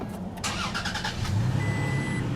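A 2017 Toyota Tacoma TRD with a 3.5 liter V6 starts by push button: a short cranking burst, then the engine catches and settles into a low, steady idle rumble, heard close with no talking.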